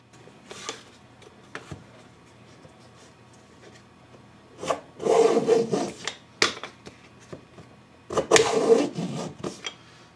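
A JMPv2 jig cuts a dado in wood across a knot in bursts of rasping, scraping strokes. Two longer, louder passes stand out against quiet gaps, with a few small ticks between them.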